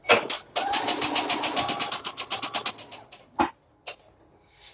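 A home sewing machine running in a quick burst of rapid, evenly spaced stitches, close and loud, slowing near the end and followed by a couple of short isolated clicks.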